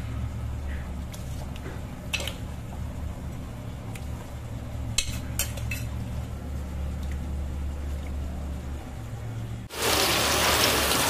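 Soaked rice tipped into a pot of hot water for vegetable biryani makes a sudden loud gushing splash near the end, after a stretch of low kitchen hum with a few faint clinks.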